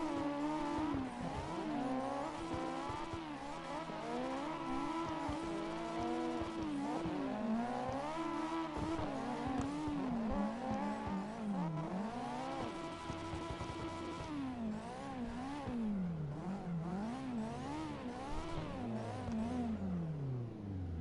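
A drift car in CarX Drift Racing revs hard through continuous swooping engine pitch changes, rising and falling repeatedly as it slides, with tyre squeal mixed in throughout.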